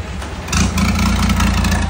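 A boat engine runs at a floating market in Thailand, a steady low mechanical drone that grows louder about halfway through and holds under faint background voices.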